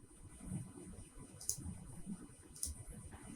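Two sharp computer mouse clicks, made while working in Photoshop, sound about a second apart over a faint, low background murmur.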